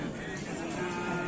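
At a cattle racing event, a cow gives a sustained, fairly loud moo that fills the whole short moment and is heard close by over outdoor background noise.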